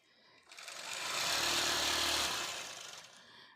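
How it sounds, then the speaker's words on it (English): A sewing machine stitching a quilt runs in one continuous steady whir, swelling up after a quiet start and holding loud before easing off, with no talking over it. "I'm gonna keep on quilting."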